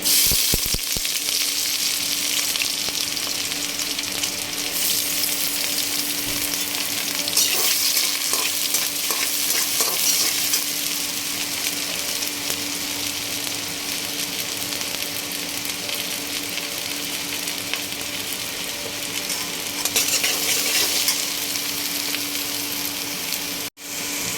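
Onion and green chili fry for a fish bhuna in a steady, loud hiss of sizzling oil with occasional stirring scrapes, carrying on almost without a break before cutting off abruptly at the end.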